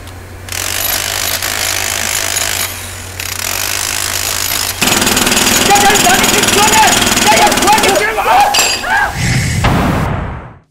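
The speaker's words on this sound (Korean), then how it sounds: "설비 기초 설치를 위한 콘크리트 바닥 굴착 작업" A concrete floor broken up during excavation for equipment foundations, loud continuous jackhammer-like pounding and grinding with intermittent thuds, while people speak over the noise near the end.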